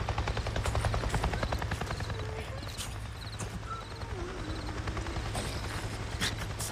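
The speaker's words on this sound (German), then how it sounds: "Warte mal, Helikopter?" Helicopter flying in the video game Days Gone, a steady rotor drone throughout, mixed with horse hoof clip-clops and game ambience at moderate loudness.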